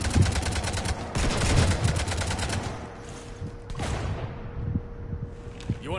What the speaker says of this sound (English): stop shooting up my ship?